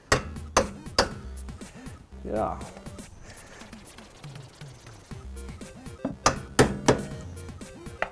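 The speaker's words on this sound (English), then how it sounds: "I'll just put that bolt, that nut back on so I can belt that out with a hammer" A hammer drives a bolt out of a Nissan 300ZX's suspension: a few heavy metallic strikes at the start and a quick cluster near the end, with someone speaking briefly and faint background sounds.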